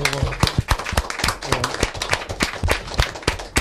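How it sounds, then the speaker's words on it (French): Children and an audience clap in uneven, close bursts for about four seconds, loud and busy, with some voices mixed in. "On va les applaudir peut-être, Puisalène, les enfants, on peut les applaudir."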